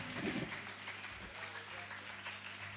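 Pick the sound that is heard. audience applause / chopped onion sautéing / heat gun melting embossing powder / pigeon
audience applause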